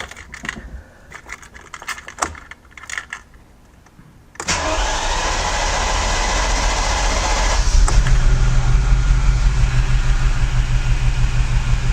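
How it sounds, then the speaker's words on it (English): A Ferrari 308 engine cranks briefly and fires, then settles into a loud, steady idle that swells slightly and holds. It is preceded by a few seconds of quiet clicks and handling noises, and no one speaks. "we'll go ahead and start the car"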